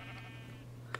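A sheep bleats in a Minecraft-style video game, heard as two quick bleats at the end of a short stretch of steady ambient game tone.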